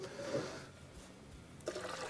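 Tap water is poured into the reservoir of a Gaggia Velasca Prestige espresso machine, a faint brief splash and trickle of liquid filling a plastic tank, heard close with no voices.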